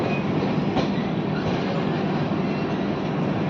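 A passenger train rolling past Nagpur station: a steady, loud rumble of wheels on track with a continuous rushing roar and faint rhythmic clatter, heard from on board or close by, with no voices.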